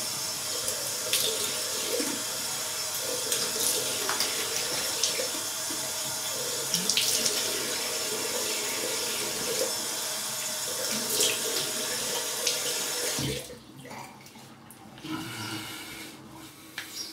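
Cold water pours steadily from a tap in a continuous splashing hiss, then cuts off abruptly, leaving a quieter room with faint rustling.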